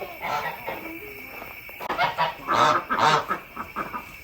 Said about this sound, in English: Goose? What are you doing, Goose?